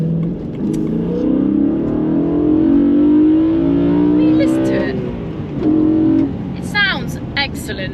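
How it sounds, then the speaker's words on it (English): A BMW E92 M3 engine fitted with a carbon Venturi intake revs hard through the gears, rising and dropping with each shift before a few sharp pops, as someone talks over it. "pulling through the gears on this thing and just listening to it sing"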